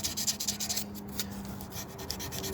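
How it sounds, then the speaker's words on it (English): Fine 1200 grit sandpaper rubbing over the frets of a Goldtop Les Paul guitar under construction, a quiet, steady back-and-forth rasp in short even strokes, with a low hum beneath. "I get some 1200 grit sandpaper, which is a very fine one, and then we'll go over the fret"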